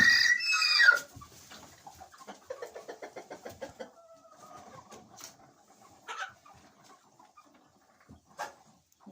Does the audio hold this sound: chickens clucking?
yes